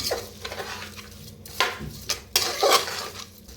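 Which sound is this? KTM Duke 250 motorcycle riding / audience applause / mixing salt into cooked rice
mixing salt into cooked rice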